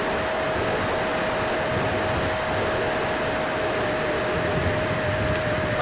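A Freewing Hawk 70 mm EDF model jet flying in some wind, its electric ducted fan giving a constant loud rushing whine with a steady high tone that holds throughout, with no talk.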